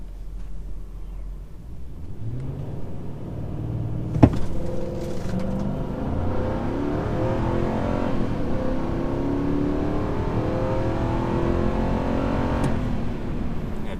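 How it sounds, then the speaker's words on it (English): A Nissan Armada engine pulls hard through a 0-60 acceleration run, its loud note climbing steadily in pitch for over ten seconds after a brief knock near the start, heard from inside the cabin with no talk. "the Armada has really good engine noise, so listen for that on this second run here"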